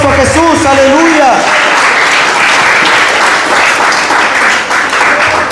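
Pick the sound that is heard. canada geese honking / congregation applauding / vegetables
congregation applauding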